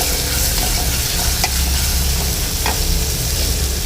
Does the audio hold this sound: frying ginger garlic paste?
yes